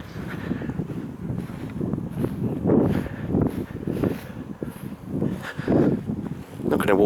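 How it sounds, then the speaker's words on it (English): Wind buffets the microphone in gusts on a hot July day at the earthwork site of Horsford castle, a low rumbling roar that swells and fades irregularly throughout. "But it's still windy."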